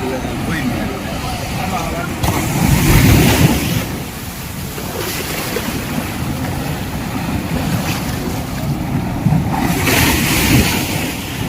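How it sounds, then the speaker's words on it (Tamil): Morning surf at Kovalam Beach rolls and breaks in a continuous loud roar, swelling and easing with each wave, with wind rushing across the shore throughout. "இந்த அலையோட சவுண்டு எவ்வளோ சூப்பராக இருக்கு பாருங்க"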